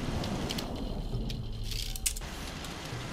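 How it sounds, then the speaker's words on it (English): Rain falling in the Fallout 4 game world, a steady, moderately loud hiss of patter with faint rattling textures throughout, no voices. "And it's currently raining."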